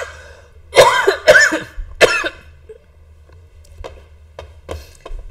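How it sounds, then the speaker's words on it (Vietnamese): A person has a coughing fit: three loud, harsh coughs close together, then a string of quieter short coughs and throat-clearing bursts that fade off. "bây giờ đã lên cơn ho quá rồi"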